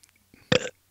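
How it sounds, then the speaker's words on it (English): One short, loud burp, preceded by a faint breath and a small mouth sound. "I bet I could do better burps than you."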